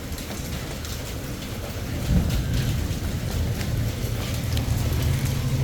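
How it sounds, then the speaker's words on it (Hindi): Heavy monsoon rain with thunder in Multan, a steady dense roar of falling water with a deep low rumble swelling in after two seconds and holding, with no talking. "ठंडी ठंडी बारिश है।"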